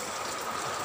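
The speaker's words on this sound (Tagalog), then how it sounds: "Ganito po ang eksena sa amin sa bahay namin kapag ganito sila umuulan." Heavy rain from Typhoon Ulysses (Signal No. 3) pours down at a house during a power outage, a dense, continuous rushing hiss with no break and no voices.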